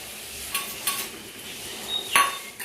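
A spoon stirs chicken with ghee and kasuri methi in a pan, making a soft steady sizzle with a few light scrapes and clinks of metal against the pan.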